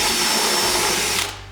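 A drywall mixing paddle on a drill spins in a bucket of water, giving a loud steady motorized whir with churning wash that cuts off near the end.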